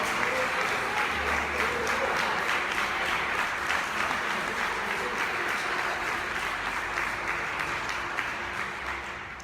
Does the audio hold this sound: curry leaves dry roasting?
no